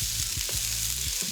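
Mixed vegetables hit hot olive oil in a pan over high heat for a stir fry, giving a loud, steady sizzle and crackle with a few soft stirring knocks underneath.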